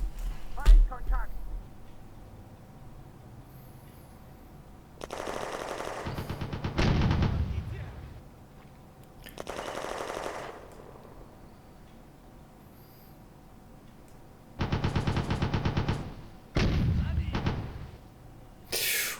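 Video game gunfire crackles in several rapid machine-gun bursts spread over the stretch, some loud and close, between quieter gaps, while a player talks.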